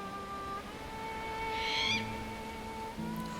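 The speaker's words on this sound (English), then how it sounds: "The barn owl, with its banshee-like screeching call and heart-shaped face, is Britain's most distinctive owl" Barn owl in the Peak District: a single harsh, hissing screech lasting about half a second, heard mid-distance over a steady background hum and faint tones.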